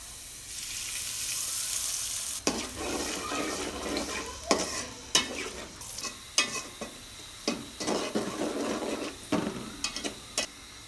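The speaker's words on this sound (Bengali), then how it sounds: "আমি পেঁয়াজগুলোকে বেরেস্তা করে নিব।" Onions frying in a pot on the stove for a Bengali chicken pulao, a steady close sizzle with repeated loud stirring scrapes and clatters breaking through from a few seconds in.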